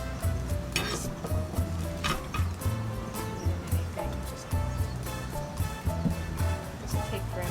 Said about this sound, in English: so I'm going to mix up just a little bit of this.